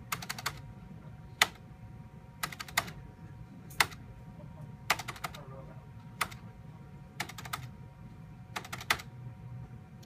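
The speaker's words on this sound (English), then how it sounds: "when the secret sequence is entered through the spacebar, we can then enable the Trojan." A computer keyboard's spacebar is tapped in short clustered bursts, roughly eight separate groups of quick clicks spread evenly over ten seconds, close and crisp over a low steady room hum.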